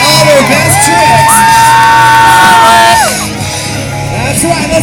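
A crowd at a BMX stunt show at the Texas State Fair cheers loudly with shouts, whoops and yells, a long piercing whoop rising above the din before the noise settles to a lower roar.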